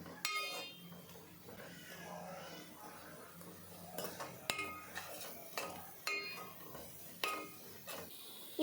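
Spice masala being stirred into prawn curry in a pan after the tomatoes and onions have fried, with a steady run of scraping and clinking strokes of a metal spoon against the pan, close and moderately loud, without talk.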